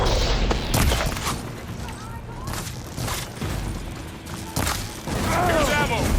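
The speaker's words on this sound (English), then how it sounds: "I should fire at the machine riders on the field." Gunfire aimed at machine riders on a field in the video game Horizon Forbidden West, with repeated loud shots and booms layered over mechanical noise and game voices talking.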